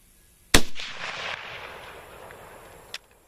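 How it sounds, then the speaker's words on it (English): A Turkish Gewehr 98 Mauser rifle, fired with low-recoil loads, cracks once sharply and loudly outdoors, followed by a long fading echo and a faint click near the end. "that combination of this heavy gun and these low recoil loads that I'm shooting, that's sweet"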